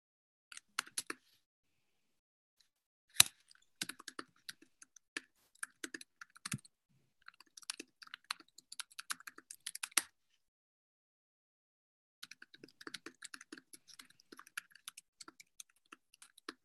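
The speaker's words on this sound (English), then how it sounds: "so everyone doesn't have to listen to me typing a 65 character password twice" A long password typed out on a computer keyboard: rapid, irregular bursts of crisp key clicks in several runs with short pauses between, close and fairly quiet, with no talking.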